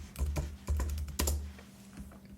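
Several quick bursts of keystrokes on a computer keyboard while typing a word into a Notion page, close and clear, with short pauses between clusters of clicks and no talking.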